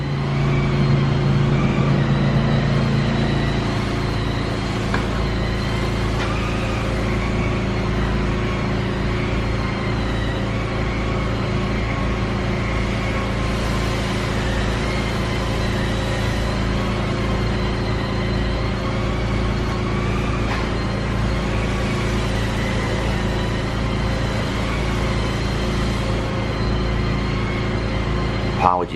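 Constant traffic and engine rumble from an auto body shop and detailing spot fills the air, a steady mechanical drone with passing vehicles and occasional clanks throughout.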